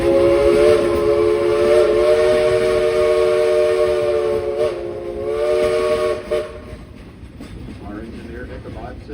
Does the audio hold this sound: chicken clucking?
no